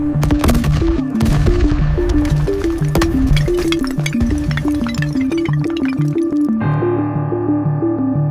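Naval artillery bombardment during the Normandy landings, with warships, destroyers and cruisers shelling the coastline: a continuous, loud barrage of sharp firing and rattling impacts over a rhythmic droning tone, cutting to a lower rumble near the end.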